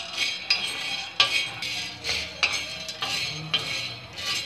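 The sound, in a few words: chickpeas being roasted and stirred on a hot tawa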